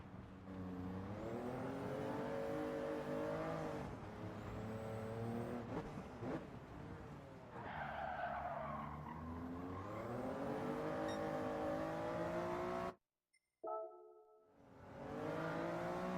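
A race car in Gran Turismo 7 revs hard through repeated gear shifts, with rising and falling engine tones and brief tire squeal, cutting out suddenly near the end before the engine returns.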